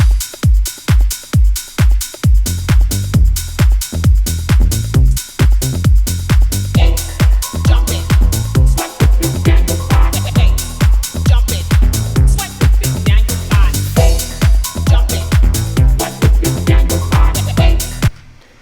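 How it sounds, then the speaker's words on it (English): A tech house drum loop pounds out a steady four-on-the-floor kick with hats and percussion, a crash and a rising white noise sweep swelling over it, loud and continuous, then cutting off. "All those drums and effects together sound like this."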